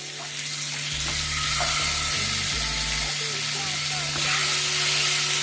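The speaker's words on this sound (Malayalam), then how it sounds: "പാൻ വെച്ച് ഇതിനെ ഫ്രൈ ചെയ്തെടുക്കാം" Chicken tangdi kabab drumsticks frying in a spoonful of cooking oil in a pan, a steady soft sizzle and hiss throughout, with a low electrical hum and a few faint clinks beneath.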